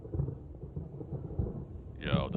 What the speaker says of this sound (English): Yo, the thunder.